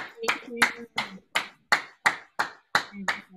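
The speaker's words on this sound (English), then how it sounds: "you know how many people are clapping right now?" Sharp, evenly spaced claps ring out about nine times in a steady rhythm, crisp and fairly close, sounding like a small audience clapping along.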